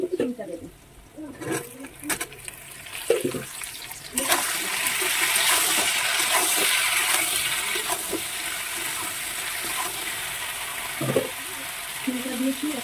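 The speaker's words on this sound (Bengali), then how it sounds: "এখন আমি ছিমটা দেবো" Beans tipped into a pan of frying potatoes and onions set off a broad, steady sizzle that swells after a few early clatters and persists loudly, with occasional utensil knocks and brief background voices.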